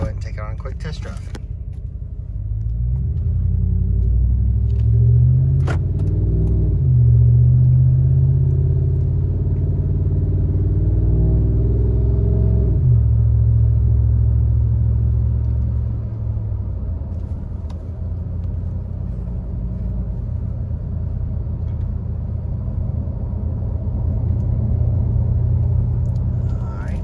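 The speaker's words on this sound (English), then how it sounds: "we'll go ahead and take it on a quick test drive." A 2014 Ram 1500 pickup truck drives on a test drive, its engine a steady low rumble heard from inside the cab, swelling and easing with speed for the whole stretch.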